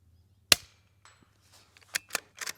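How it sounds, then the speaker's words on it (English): Suppressed Ruger Precision Rimfire .22LR rifle fires one sharp, fairly quiet crack, then after a pause three more quick cracks in close succession, each short and snappy with a faint tail, at an outdoor range. "That is just so quiet with the suppressor on."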